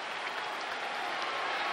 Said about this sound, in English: you could hear the customary cheer which comes here at A&M, which is sit-down bus driver